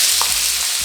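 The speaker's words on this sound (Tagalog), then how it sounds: "Makikita ninyo na unti-unti na nagbabrown yung bawang" Garlic browning in a hot pan for pinapaitan sizzles loudly and close, a brief, dense crackle of frying with no talk.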